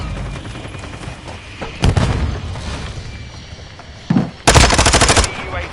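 Loud, sustained bursts of automatic gunfire from the Call of Duty Modern Warfare II video game, with heavy rapid volleys close by over a continuous noisy battle background and a voice calling out briefly.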